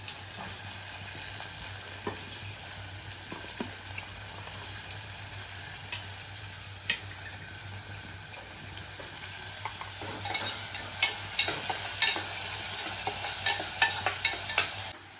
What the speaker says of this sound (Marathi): आता लसूण टाकूया त्याच्यातच कांदा टाकूया